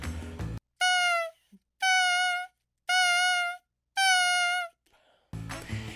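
Bassoon tongued notes with the air stopping between them: four sustained, steady-pitched tones, each about half a second to a second long, separated by clear silent gaps, heard alone and close.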